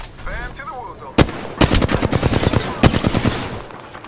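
Rapid bursts of automatic gunfire in the Apex Legends video game, loud and close, with sharp single cracks breaking into sustained volleys after a brief murmur of voice at the start.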